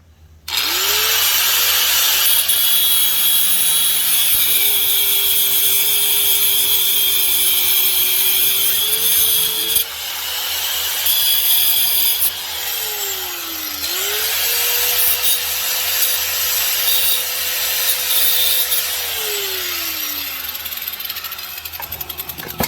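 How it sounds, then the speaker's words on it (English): A bench grinder with a wire wheel whines steadily at high pitch while a cut motorcycle forward-control part from a Yamaha XJ1100 is pressed against it, the harsh scrubbing rising and dipping in two long passes as the motor speed sags and recovers. "after a quick going over to the bench grinder and the wire wheel combo"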